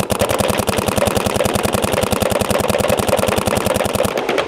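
A paintball marker fitted with a Carbon FP PWR insert kit fires a long, rapid, evenly spaced string of loud, close shots for about four seconds, then stops abruptly.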